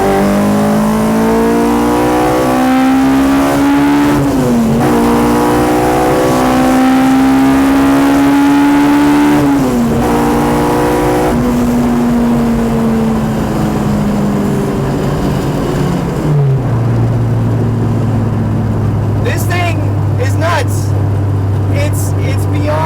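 K-swapped Honda Civic R18 with VTEC pulling hard through the gears toward 9K RPM, loud rising engine howl with several upshift dips, then settling into a lower steady drone, heard from inside the car.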